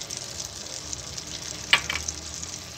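Fish kofta curry frying in a pan with garam masala and chopped green chillies, giving a steady close sizzle with one sharp crackle partway through and no talking.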